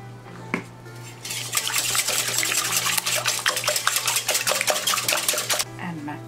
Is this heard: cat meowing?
no